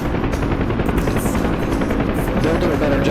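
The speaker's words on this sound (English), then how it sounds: "the door gunners are usually pretty decent at getting rounds on target, mostly" Helicopter door gunners fire machine guns in a video game, a steady loud rotor drone with dense repeated gunfire bursts running throughout, continuous and busy rather than isolated shots.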